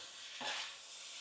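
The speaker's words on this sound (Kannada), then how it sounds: "ಪನ್ನೀರು ಮತ್ತು ಗೋಡಂಬಿ ಫ್ರೈ ಮಾಡಿದ್ನಲ್ಲ ಅದನ್ನು ಹಾಕ್ತಾಯಿದ್ದೀನಿ" Fried paneer cubes and cashews tipped into a hot pan of fried-rice sauce, giving a brief sizzling stir that rises and fades within a second against a steady background hiss.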